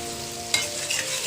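Garlic sizzles as it fries in butter, giving a close, steady hiss with a brief sharp crackle when stirred, with no talking.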